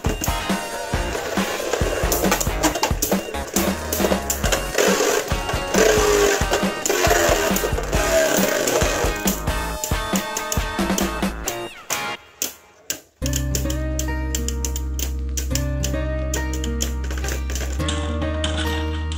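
Beyblade Burst GT spinning tops battle in a plastic stadium, with dense rattling, clacking and whirring for about twelve seconds. A sharp clash follows, then the spinning winds down, and a steady tonal backing sound carries on alone.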